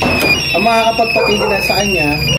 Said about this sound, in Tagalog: yan ang alarm niya